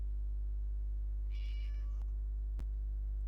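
A cat meow plays from a mobile app, one short tonal mew cut off partway, followed by a sharp click over a strong steady electrical hum.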